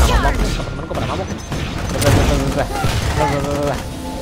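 Rapid gunfire and booms in the mobile shooter Paladin Strike, dense and loud, with a voice talking over it.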